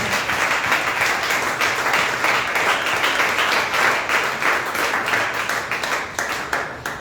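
A church congregation claps loudly during a Spanish-language service, dense steady applause that grows into rhythmic, evenly spaced claps toward the end.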